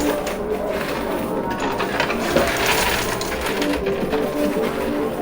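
Busy casino floor with slot machines and gambling devices, a dense wash of jingling electronic chimes, clattering coins and mechanical whirring, loud and continuous with no clear speech.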